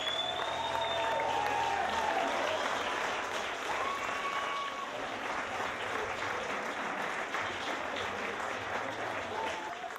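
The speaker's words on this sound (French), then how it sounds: "Alors, on applaudit," A live audience applauds a band at the end of a show, steady dense clapping throughout with a few cheers and whistles mixed in.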